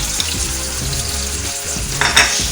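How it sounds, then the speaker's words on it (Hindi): Sliced onion, ginger and curry leaves fry in a pan for a red bean curry, a loud steady sizzle with a few brief stirring scrapes and a sharper crackle near the end. "जैसे ही ये भुन जाएगा, प्याज जो है लाइट गोल्डन हो जाएगा"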